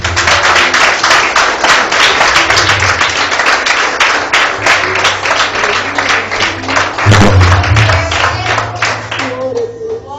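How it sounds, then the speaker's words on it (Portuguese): Church congregation giving sustained applause during a Portuguese-language service, loud, dense clapping from many hands for about ten seconds, with a low hum and voices underneath and a brief surge near the end. "Aplauda, Senhor."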